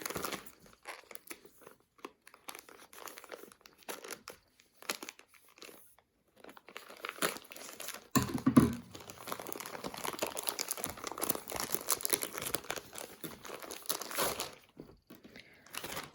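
Crinkling and rustling of a parcel from China being opened and unwrapped, with soft crackling bursts that grow denser and louder in the second half, close to the mic with no talking.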